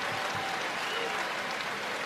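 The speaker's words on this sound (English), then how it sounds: "Kentucky fans starting to cheer" Kentucky basketball fans cheer and applaud in an arena during an NCAA Tournament first-round game against Abilene Christian, a steady, dense crowd roar that holds for the full two seconds with no pause.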